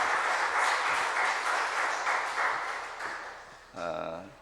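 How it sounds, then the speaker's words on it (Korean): Applause from a church congregation during a Sunday morning worship service, a dense wash of clapping that fades after about three seconds, followed by a brief spoken word. "여러분 박수 한번 해드리세요."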